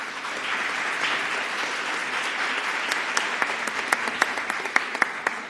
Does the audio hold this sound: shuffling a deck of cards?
no